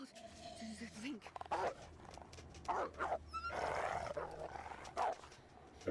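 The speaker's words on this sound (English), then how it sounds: "Oh, here's Mr. Wolf." A wolf growls and snarls in a video game, rough bursts coming close, mixed with a voice talking.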